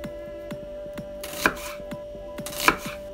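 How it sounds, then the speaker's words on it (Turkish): A knife slices onions into half-moons on a cutting board for Uzbek pilaf, tapping in a quick regular rhythm with a few louder, crisper cuts, close and clear, with no voices. "Tüm soğanlarımızı böyle yarım daire şeklinde kesiyoruz"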